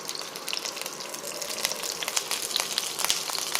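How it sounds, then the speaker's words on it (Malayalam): Mustard seeds splutter in hot coconut oil in a pan, rapid scattered pops and crackles over a continuous sizzling hiss, close and moderately loud, with no talking. "കടുക് പൊട്ടിക്കാം."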